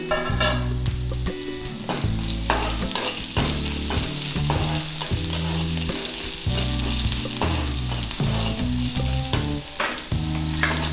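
Sliced onions for a Tamil carrot poriyal sauté in a pan, a loud continuous sizzle broken by repeated scraping and clanking stirs of a spatula, close by with no talking.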